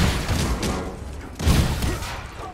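Gunfire in Marvel's Avengers: rough, noisy bursts of shooting aimed at the player, arriving in two swells over a dense, steady game soundscape.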